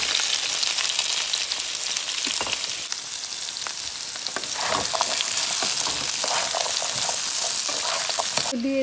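Cut apple pieces sizzle and fry loudly in a pan of hot oil with five-spice seeds for a spicy-sweet apple pickle, a continuous close crackle with occasional stirring scrapes.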